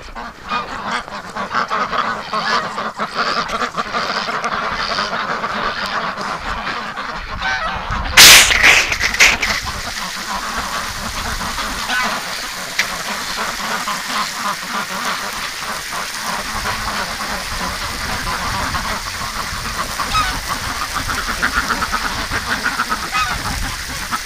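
Wintering ducks and geese call steadily, a dense chorus of quacks and honks going on throughout, with a brief loud splash or clatter partway through.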